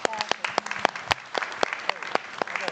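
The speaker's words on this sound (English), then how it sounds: "And give a round of applause." A small audience at a legislative study committee meeting gives a round of applause, distinct individual claps close by for a few seconds.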